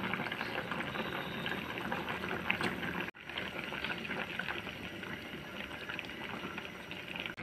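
Water bubbles at a rolling boil in a pot, a steady gurgling hiss close by, briefly interrupted once, with no talking.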